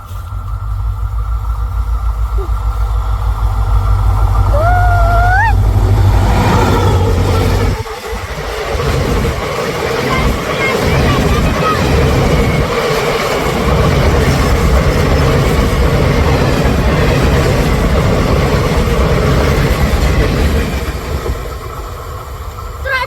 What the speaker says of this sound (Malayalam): അപ്പൊ നമുക്ക് ഒരു ട്രെയിൻ പോണത് കണ്ടാലോ?